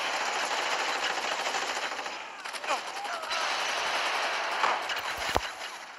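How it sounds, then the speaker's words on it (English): Automatic gunfire from a DE-45 assault rifle in the video game Gangstar Vegas, steady bursts of rapid shots running almost continuously with a few sharper cracks near the end. "DE-45 is a pretty strong assault rifle."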